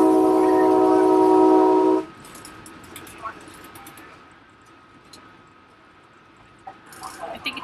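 A loud double-decker train horn blares for about two seconds, then gives way to a low rumble of the moving train with rattling and clicks.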